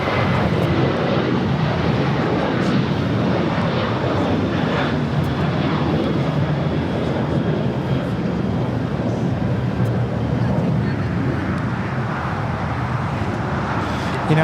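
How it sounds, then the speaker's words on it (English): An Alaska Airlines Boeing 737-800 jet takes off from Los Angeles airport with a loud, steady engine roar that holds throughout at close range, with faint traffic noise beneath it. "That was Alaska 1420 taking off to Loretto on a 737-800"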